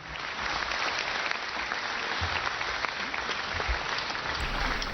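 An assembled crowd at a birth centenary function in Jammu breaks into vigorous applause for dignitaries, a dense, continuous roar of clapping that stays strong throughout.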